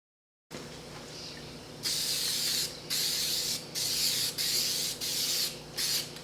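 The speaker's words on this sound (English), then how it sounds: "It's a gasket sealant to spray on all the surfaces." Aerosol gasket sealant sprayed onto the cylinder head and gasket surfaces of a 383 engine rebuild, a series of close hissing bursts of about a second each, separated by short pauses, over a faint background hum.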